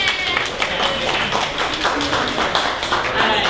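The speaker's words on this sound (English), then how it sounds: "So big round of applause for them." Audience at a 1 Million Cups Dallas startup meeting applauding the event sponsors, a dense steady patter of many hands clapping close by for the whole stretch, with no voices over it.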